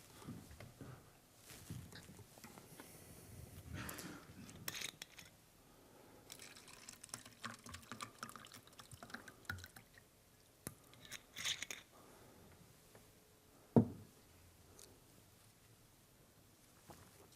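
Water being poured into a glass close by, in short gurgling, splashy bursts with quiet pauses, then a sharp clunk near the end; no one speaks.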